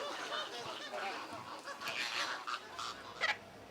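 Hand-reared flamingo chick, rejected by its parents, calling eagerly for its feed at a zoo: a series of short honking, goose-like calls with a louder burst near the end, over steady background noise.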